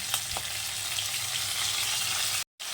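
Ginger paste and green chili paste frying in hot oil for a vegetarian potato curry, giving a steady close sizzle that cuts off abruptly near the end, with no talking.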